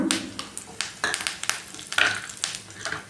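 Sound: mustard seeds, chana dal and curry leaves frying in oil

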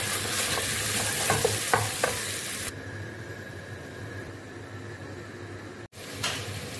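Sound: frying potatoes with spices

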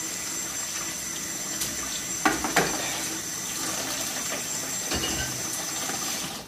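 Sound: hot tap water running for cleaning a cast iron wok

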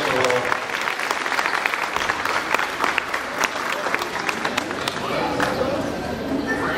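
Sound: applause at primary school graduation

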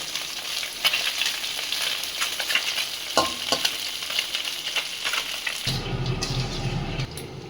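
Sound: fish coated in flour frying in a kadai

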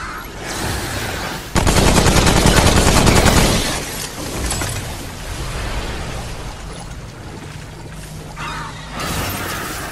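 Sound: gunfire in the video game Remnant

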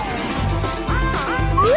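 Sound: hammer smashing a Chupa Chups lollipop

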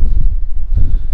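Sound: wind on the microphone behind a tractor

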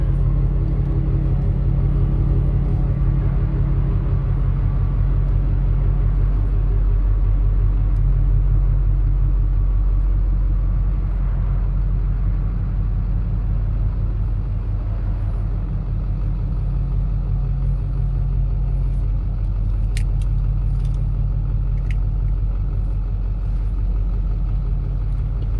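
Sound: Hummer H1 driving out of garage for a ride

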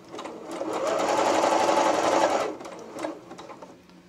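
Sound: sewing machine sewing elastic onto seam allowance

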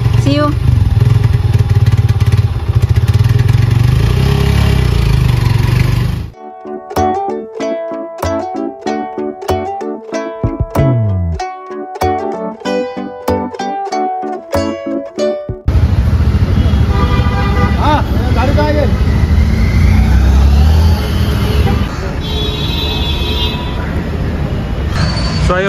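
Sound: motorbike riding and being parked

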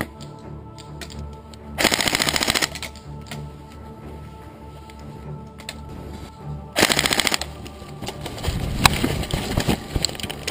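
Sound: airsoft guns firing BBs

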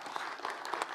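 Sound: audience applause after a conference talk

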